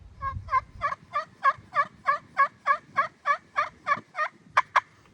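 A slate pot turkey call worked with a striker gives a steady series of about fourteen evenly spaced yelps, clear and close, ending with two sharper, higher notes.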